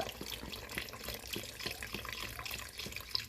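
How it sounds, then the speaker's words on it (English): Beef broth being poured into a pressure cooker while making beef stew, a soft steady trickle and splash of liquid running continuously at low level. "Now what I'm going to do is add about a cup of beef broth."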